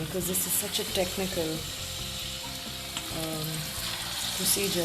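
Chicken pieces coated in rice flour deep-fry in hot oil with a steady close sizzle and crackle throughout, while a person talks over it.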